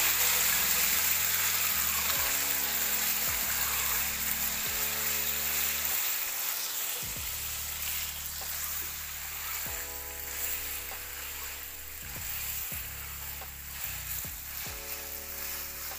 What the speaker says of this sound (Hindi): बोनलेस चिकन आधा किलो डाला और इसको भुनेंगे